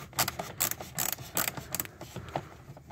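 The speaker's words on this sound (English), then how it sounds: "we're going to grab the T25 and we're going to just loosen that" Small mechanical clicks and ratcheting come from a Torx T25 driver loosening a screw on the instrument cluster of a Volvo 240's interior, in several short close bursts with brief pauses between.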